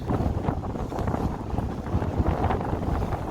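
Strong, biting wind roars continuously across a snowy mountain ridge at Seonjaryeong during a winter hike, buffeting the microphone with steady, loud gusts and no talking.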